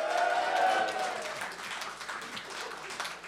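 Theatre audience at a live show applauding, a dense wash of clapping that is loudest at the start and thins gradually toward the end.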